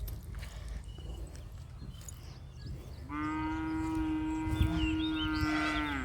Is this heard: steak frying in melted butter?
no